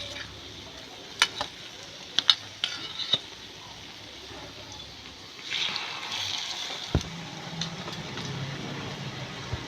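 Bread omelette frying in a little oil in a small kadai, a soft, low sizzle with scattered clicks and utensil taps, swelling into a brief louder hiss midway before settling back down.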